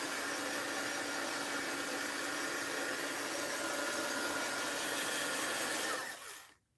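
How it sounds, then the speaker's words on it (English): A heat gun with a suspected short in its cord, used for mixed-media art journaling, runs with a steady loud airy whoosh for about six seconds, then cuts off and winds down into silence. "Oh, yeah, my heat gun is on."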